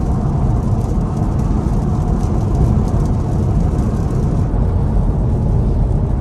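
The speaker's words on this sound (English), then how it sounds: "the rain's starting to pick up" Steady rain and road roar fill the cabin of a Tesla Model Y heading south on Interstate 85, a dense, unbroken wash of noise at constant loudness with no talking.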